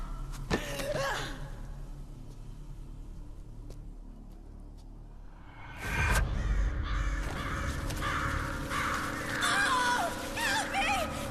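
Ravens caw in the video game Metal Gear Solid 4, a few harsh calls early on, then a louder burst of overlapping caws and flapping over a busy game background.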